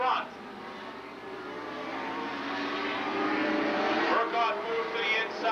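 Super late model race cars racing at Lake Geneva Raceway, a steady distant roar of engines swelling as the pack passes, with an announcer talking over it.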